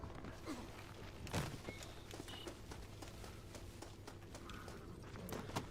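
Horse hooves clip-clopping in the Red Dead Redemption video game, soft and low in level, an uneven run of light thuds with a few louder knocks over quiet game ambience.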